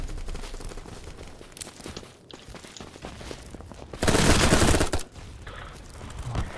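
Bursts of rapid gunfire in a Roblox capture-the-flag match, with scattered shots building to a dense, loud volley midway before easing back into sparser fire.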